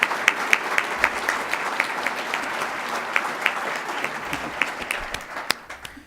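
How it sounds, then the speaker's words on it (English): Audience applause at a county government address, a steady patter of many hands clapping at moderate volume that thins out toward the end. "Now, if we give a round of applause to Erica, I'd appreciate that."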